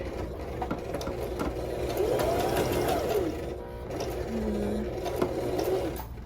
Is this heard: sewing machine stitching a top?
yes